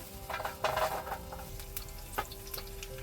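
Garlic sizzling in hot oil in a pan at a winter military-style campsite, a steady close crackle with a louder burst of frying near the start and occasional utensil scrapes and clicks.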